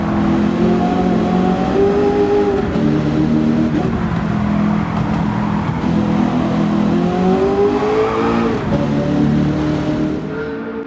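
A Ford Mustang Boss 429 with a massive 760-horsepower V8 in Gran Turismo 7 roars loud and steady, its engine note climbing and dropping through gear changes and holding a heavy revving drone throughout.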